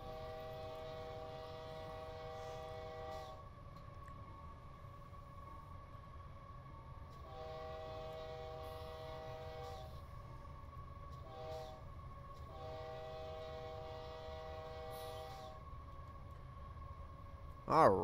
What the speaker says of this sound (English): I'm going to go ahead and shut up so we can clear this crossing, since these horns are pretty loud.